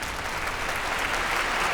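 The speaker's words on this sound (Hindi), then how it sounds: "आप सब तालियां बजाइए, सेवक राम जी माइक पर आ रहे हैं।" A crowd claps steadily as Sevak Ram comes up to the microphone at a gathering, a dense, loud and even wash of applause with no voices over it.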